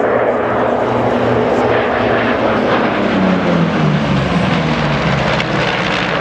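At the 2013 La Ferté-Alais airshow, a Lightning fighter aircraft roars past, its loud, broad engine noise filling the air continuously with a slowly falling pitch as it passes.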